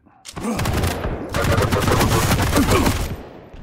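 Rapid machine gun fire in Quake Champions, a dense sustained burst across most of the clip with a brief gap, loud and close in a fast arena match.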